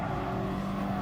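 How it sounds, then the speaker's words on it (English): Race car engine in Gran Turismo Sport, a steady droning tone with a slight shift in pitch as the driver lifts off the throttle, close and continuous, no talk. "Quite a lot of lifting on the throttle."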